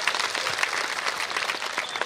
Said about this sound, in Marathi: समीक्षेसाठी जोरदार टाळ्या होत जाऊ द्या